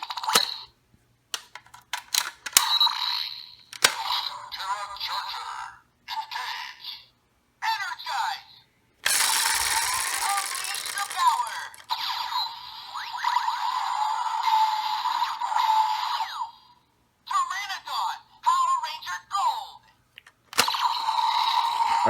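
A Power Rangers Dino Charge Gold Dino Charger toy in the Ptera Charge Megazord gives a run of short electronic sound effects and voice-like bursts, with one longer continuous stretch in the middle, close and fairly loud.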